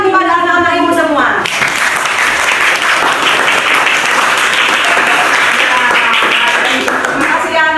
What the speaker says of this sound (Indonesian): Kita berikan dulu tepuk tangan kepada anak-anak Ibu semua.